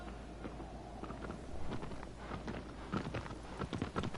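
Horse hooves clopping in Shadow of the Colossus, a steady trotting rhythm of soft repeated hoof strikes that grows slightly louder and quicker toward the end, fairly faint overall.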